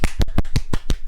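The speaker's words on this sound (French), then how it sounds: "t'as le public qui applaudit et que c'est très fort" Sharp, evenly spaced claps ring out one after another in a kung fu film soundtrack, meant as audience applause but sounding like a handful of close, dry, isolated smacks with gaps between them rather than a crowd.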